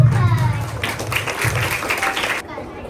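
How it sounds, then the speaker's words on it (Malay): An audience claps at a morning Maulidur Rasul competition, brief scattered applause that rises and fades within a few seconds while voices talk over it. "Okey, tepuk tangan."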